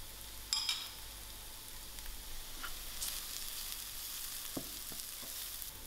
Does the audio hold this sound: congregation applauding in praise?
no